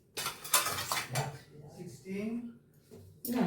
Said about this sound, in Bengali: একটা পরিষ্কার পরিচ্ছন্ন কড়াই নিয়ে নিতে হবে প্রথমে।